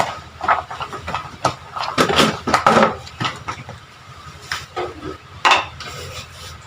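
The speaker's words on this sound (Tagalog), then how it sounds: "Haluin lang ng haluin. Para mag-mix talaga siya." A utensil stirs and scrapes canned chili tuna with carrots and potatoes in a metal pan, giving irregular, fairly loud clinks and scrapes close by, with no talking.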